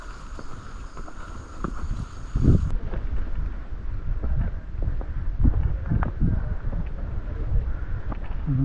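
Strong wind gusting across the summit of Mount Marami in Maragondon, Cavite, under low cloud, a loud continuous buffeting rumble hitting the microphone with uneven surges.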